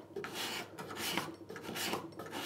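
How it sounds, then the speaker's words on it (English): A steel file is pushed along the edge of a steel cabinet scraper in draw filing, giving a steady, rasping scrape in repeated long strokes, close and continuous. "So now we draw file this by pushing this like this."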